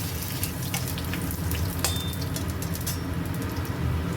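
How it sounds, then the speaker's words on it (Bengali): Whole cumin seeds fry in hot mustard oil with a dense, even crackling sizzle heard up close and fairly loud, joined by a few faint clicks and no voices. "জিরেটা একটু ভাজা ভাজা হচ্ছে"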